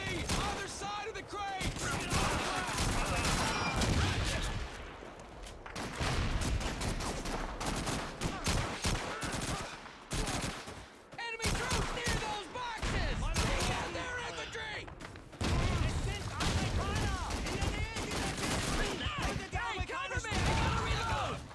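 Heavy World War II gunfire in Call of Duty 2, with dense rifle and machine-gun bursts, explosions and slams running almost continuously and loud, plus shouted voices mixed in.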